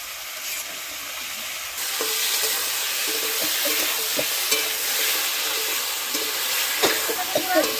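Turmeric, ginger paste, cumin paste and green chilli paste fry together in oil, a close, even sizzle that swells after a couple of seconds, punctuated by spatula knocks and scrapes.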